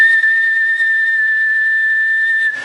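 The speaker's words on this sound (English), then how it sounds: "and if I whistle" A single sustained whistled note, loud and steady, held for over two seconds before cutting off abruptly, whistled into a hearing aid transducer.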